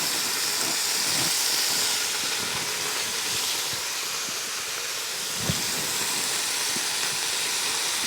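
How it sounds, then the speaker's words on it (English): Large batch of onions caramelizing in a pot for French onion pot roast, giving a steady steamy hiss throughout with faint soft stirring knocks and one brief thump. "Now we're going to be caramelizing these onions."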